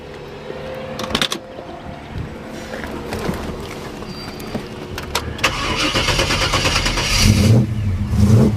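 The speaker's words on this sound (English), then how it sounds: "We'll go ahead and fire this one up for you." A 1955 Chevrolet 210 with shortie headers cranks over and fires up, its engine catching and then revving with a building rumble that grows louder toward the end; no one talks.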